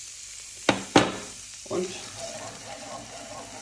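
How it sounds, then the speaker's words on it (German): Chili, chives and sage leaves hit a hot pan with two sharp clatters, then a soft, steady sizzle settles in close by as someone briefly speaks. "jetzt werden wir das ein bisschen anbraten"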